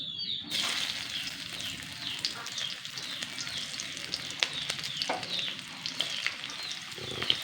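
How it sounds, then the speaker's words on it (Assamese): Onions sizzling as they drop into hot oil in a pan, a sudden start of bright crackling frying that carries on steadily with scattered pops and stirring. "দি দিম পিঁয়াজখিনি"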